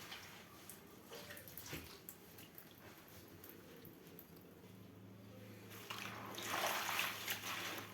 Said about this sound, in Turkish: Çeşmeyi şöyle kapatayım.